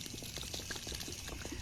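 Milk pours steadily into a man's pocket as part of an eating challenge, a continuous liquid gush with small splashy bursts, fairly close and alone without talk.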